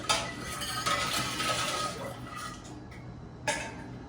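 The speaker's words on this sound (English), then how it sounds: "I'm gonna give it a good stir" A utensil stirs pickle brine in a pot, scraping and clinking against the metal in a steady run of close, moderately loud sounds, with a couple of sharper knocks near the end.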